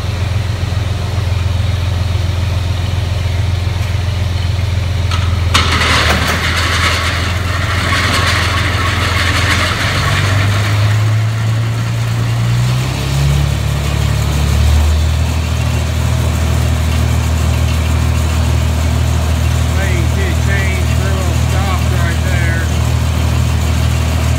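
Manure spreader hydraulics running with the engine idling: a steady low engine drone throughout, a burst of brighter mechanical noise near six seconds, then a shift in pitch as the hydraulics load up and the machine starts moving.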